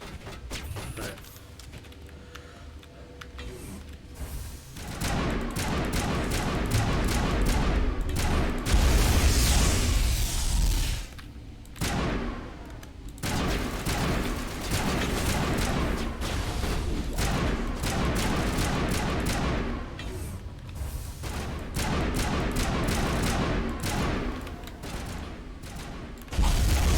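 Sustained rapid gunfire from a weapon in the Mass Effect video game, dense bursts of shots rattling almost continuously over loud game effects, with brief pauses between volleys.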